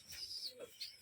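Rajshahi Giribaz pigeons give a few soft, brief coos, spaced out over a steady background hiss, with no voices.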